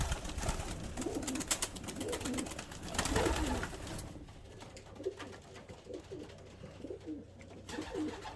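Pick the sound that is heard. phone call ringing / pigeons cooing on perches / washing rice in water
pigeons cooing on perches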